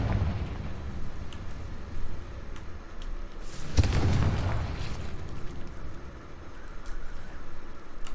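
A Confringo blast spell fired in Hogwarts Legacy erupts midway as one deep, booming burst that swells and fades over about a second against a steady low game ambience.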